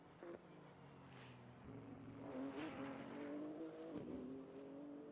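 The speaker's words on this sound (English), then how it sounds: "You can hear the roar of the BMW engine there. Very deep sounding engine." A BMW race car engine in Assetto Corsa, lapping the Sebring circuit, gives a faint, deep, rising roar with shifting harmonic tones, as if heard at some distance.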